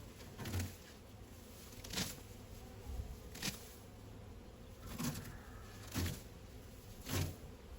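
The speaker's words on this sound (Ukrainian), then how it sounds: "Бджоли вилітають" Honey bees buzzing steadily outdoors at an apiary hive, with louder passes roughly every second as individual bees fly close by.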